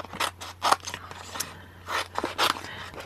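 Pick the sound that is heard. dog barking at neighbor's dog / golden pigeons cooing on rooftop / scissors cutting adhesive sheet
scissors cutting adhesive sheet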